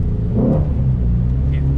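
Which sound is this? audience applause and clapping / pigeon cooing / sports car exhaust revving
sports car exhaust revving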